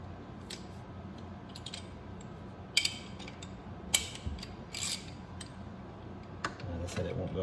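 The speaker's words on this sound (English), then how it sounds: "that's about all I'm doing with my hand now to get my 1/2 inch ratchet" A 1/2 inch ratchet works a shift shaft plug on a Mercury outboard, giving faint, scattered clicks and short ratcheting bursts over a low steady background hum.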